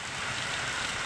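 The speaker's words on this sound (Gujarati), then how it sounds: "હળવા અને ભારે વરસાદી ઝાપટાથી પવન પણ સાથે સાથે જોવા મળ્યો" Light-to-heavy rain showers falling with wind, a dense steady hiss of drops on surfaces with a gusty rush, continuous and close, no voices.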